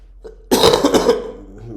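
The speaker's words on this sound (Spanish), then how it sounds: "Se perdonará, pero tengo un poquito de tos." A single harsh cough bursts out close by, rough and throaty, then trails off into quiet.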